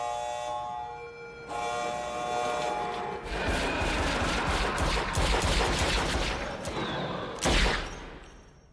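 Shooting-test scene in the film Men in Black, with dense rapid gunfire bursts over siren-like tones and a loud blast near the end, all without talking.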